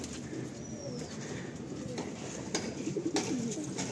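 Pigeons coo softly in a loft, low throaty calls that grow more frequent toward the end, with light fluttering and shuffling close by.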